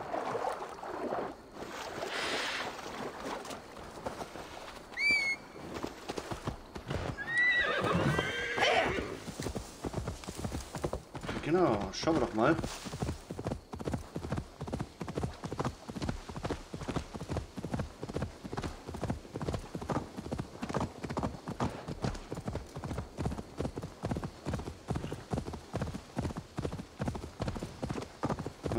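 Horse hooves clip-clopping in a steady trotting rhythm through much of the scene in the video game Assassin's Creed Valhalla, with a few whinnies early on and someone briefly talking at the start.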